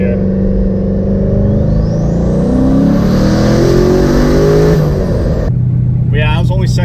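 A twin-turbo C6 Corvette Z06 on Weld drag radials accelerates hard, its engine roaring loud and close as it climbs through a gear. The run ends abruptly and a person then speaks excitedly.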